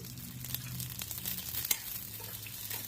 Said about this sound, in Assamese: এইখিনি ভালদৰে ভাজি লৈছোঁ